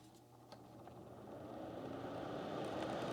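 A Kismile space heater running, a steady low fan-and-motor hum that builds slightly in loudness over a few seconds, heard close up with faint clicks and no talking.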